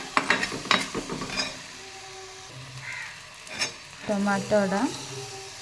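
Tomatoes sizzle and fry in a hot pan as a spoon stirs through them, scraping in uneven bursts, with a brief loud clatter near the start and a steady soft crackle underneath.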